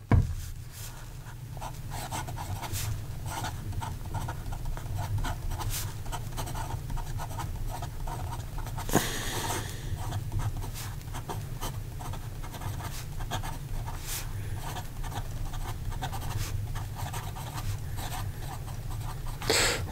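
A Sailor King of Pen Pro Gear fountain pen nib scratches steadily across paper, a continuous close-up rasp of writing strokes running alone with no voices.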